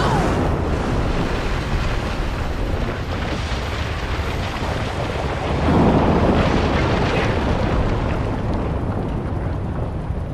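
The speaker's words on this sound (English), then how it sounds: "When the building collapses, the dust cloud will choke the engine" Massive building collapse in RoboCop: Rogue City, a sustained roaring rumble with dense low debris noise that swells louder around the middle, like a huge crumbling structure sending up a dust cloud.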